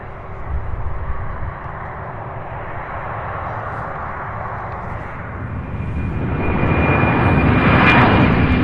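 Boeing 767 jet at Louisville International Airport, its engines a broad, continuous roar that swells louder toward the end as the aircraft draws nearer.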